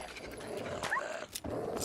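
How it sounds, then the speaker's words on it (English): A dog in the Fallout 4 wasteland gives a short growl and bark close by, a brief gruff animal burst lasting under two seconds. "What a good dog, huh?"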